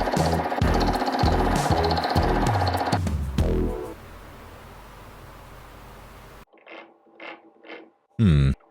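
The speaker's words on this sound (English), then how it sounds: "I'll square the two cubes on the mill" A milling machine cuts metal cubes to square them, making a loud, rhythmic chattering grind that fades to a steady machine hum, followed by short separate bursts and a final loud burst.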